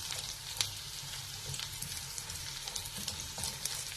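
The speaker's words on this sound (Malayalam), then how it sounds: "എന്നിട്ട് ഹൈ ഫ്ലെയിമിൽ ഇട്ടിട്ട് നമ്മൾ അതൊന്ന് മൊരിച്ചെടുക്കണം" Carrot pieces frying in butter over a high flame, a steady faint sizzle with occasional soft crackles and stirring clicks, no voices.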